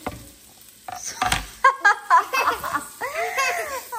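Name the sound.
onions sizzling in a pan for pav bhaji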